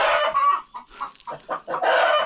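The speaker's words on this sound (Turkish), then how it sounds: "tavuklar yumurtluyor. Onun sesi bu." Hens cackle loudly and close by after laying eggs, in a run of squawking bursts, the clucking rising and falling without any talk.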